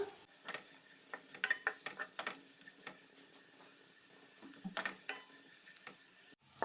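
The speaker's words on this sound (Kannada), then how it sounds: "ಸ್ವಲ್ಪ ಟ್ರಾನ್ಸ್ಪರೆಂಟ್ ಆಗುವವರೆಗೂ ನಾವು ಫ್ರೈ ಮಾಡ್ಕೊಳ್ಬೇಕು ಫ್ರೆಂಡ್ಸ್ ಈರುಳ್ಳಿಯನ್ನು" Onions frying in a pan until transparent, a quiet soft sizzle broken by irregular scraping and clinking strokes of a spoon stirring against the pan, with no voices.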